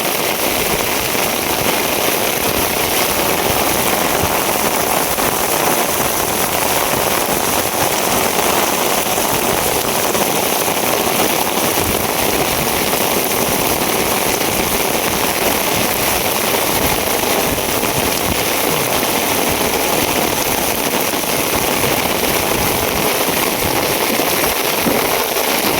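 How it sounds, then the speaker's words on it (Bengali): Heavy rain pours in a dense, continuous hiss at steady loudness, unbroken for the whole stretch, with no voices. "সর্বনাশ, বৃষ্টি রে বৃষ্টি"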